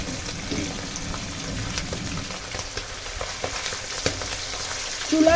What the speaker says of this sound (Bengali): প্রথমে আমি এই 4টা মাছ ভেজে নিই